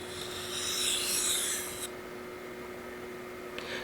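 A blade honed on a Shapton Glass 1000 water stone gives a close, steady rasping stroke for about two seconds, then quiet with a brief scrape near the end.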